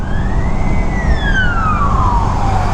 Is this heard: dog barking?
no